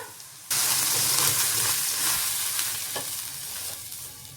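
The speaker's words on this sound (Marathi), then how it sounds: "इथे थोडंसं पाणी टाकून आपल्याला टेम्परेचर परत नॉर्मल करून घ्यायचंय तव्याचं" Water splashed onto a hot griddle (tawa) being prepared for wheat-flour and spinach dosa bursts into a loud, sudden hiss that holds steady and slowly fades, heard alone.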